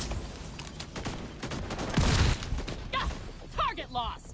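Bursts of gunfire in a video game set in Sadr City, loud and continuous with several sharp shots, heard under ongoing game audio and a voice talking.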